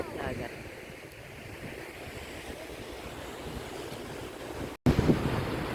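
Surf washing onto a beach in Palawan, a steady broadband wash of waves with wind buffeting the microphone, briefly cut out near the end before resuming louder.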